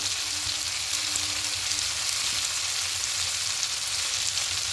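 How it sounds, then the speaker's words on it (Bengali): Mixed vegetables with turmeric and salt fry in a pan for a bottle gourd greens and poppy seed dish, giving a steady, even sizzle throughout with no talking. "এটা খুব ভালো করে সব কিছু মিশিয়ে মিনিট দু মিনিট একটু সবজিগুলোকে ভাজা ভাজা করে নেবো"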